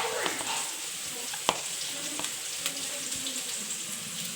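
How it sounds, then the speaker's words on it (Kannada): Onions frying in a pan as an Indian-style saaru or khara curry is prepared at home, a steady soft sizzle with a faint watery hiss throughout, a few light clinks of stirring and one sharp tap near the middle, with no voices. "ಈರುಳ್ಳಿ ಸ್ವಲ್ಪ ನೀಟಾಗಿ ಫ್ರೈ ಆಗಲಿ"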